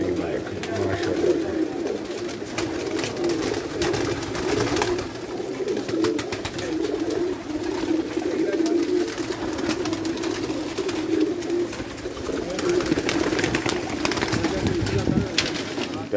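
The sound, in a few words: pigeons cooing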